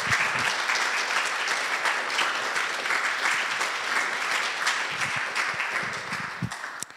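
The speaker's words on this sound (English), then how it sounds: "So a big applause for all of you." Sustained applause from an audience at a book presentation, a dense wash of many hands clapping that holds steady and then tapers off near the end.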